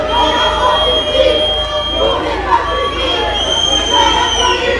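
A crowd booing a newly appointed minister as she arrives at a school, heard as a steady, loud hubbub of raised voices with talking over it throughout.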